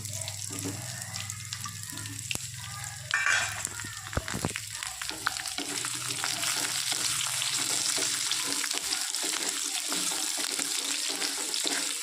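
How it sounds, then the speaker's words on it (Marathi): Large chopped onion goes into a pan of simmering gravy, giving a sizzle and bubbling frying noise with stirring clatter and a few utensil knocks, steady and close. "मी एवढाला मोठावाला चॉप करून घेतला आहे कांदा त्यावर हे टाकणार आहे ग्रेव्हीमध्ये"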